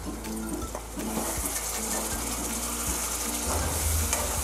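Petha kaleji, lung and liver with a little added water, simmers on a low gas flame with a steady close sizzle and faint bubbling, plus an underlying low hum, with no talking.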